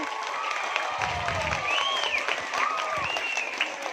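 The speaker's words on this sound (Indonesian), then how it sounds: "Satu kali lagi saya mohon bareng-bareng yuk tepuk tangan untuk SMP Negeri 1 Benteng" An audience applauds students of SMP Negeri 1 Benteng at a community event on the Selayar island plastic-free campaign, a steady patter of clapping with some crowd noise mixed in.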